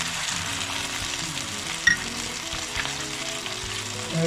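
Chicken roasts in a pan with cumin and Mehran biryani masala, giving a continuous close, even sizzle with a brief clink partway through.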